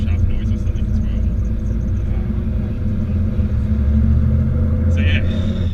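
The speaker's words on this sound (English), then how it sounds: "Diff, very noisy, but it goes away in 5th gear" A noisy differential drones as the car drives along, a steady low rumble and whine of road and driveline running loud and continuous throughout.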